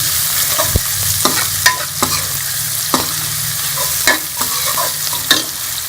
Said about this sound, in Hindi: अब इसके अंदर ये टमाटर और हरी मिर्चें भी डाल दूंगी, इसको भी हम मिक्स कर लेंगे।